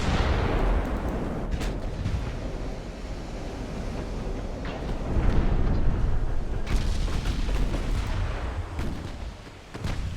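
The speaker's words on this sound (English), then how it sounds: "Actually taking a lot of 14-inch hits from these battleships right now" Heavy naval combat in Ultimate Admiral: Dreadnoughts, with 14-inch battleship shells striking and big guns firing: continuous deep rumbling booms and crashing impacts layered over a roaring, surf-like wash, loud and sustained throughout.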